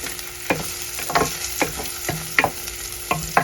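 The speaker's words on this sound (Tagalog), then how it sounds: "Garlic and onions, saute garlic and onions" Garlic and onions sautéing in oil in a pan, with a steady sizzle and regular scraping stirs about every half second, close and clear with no talking.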